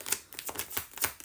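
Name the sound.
laying down oracle cards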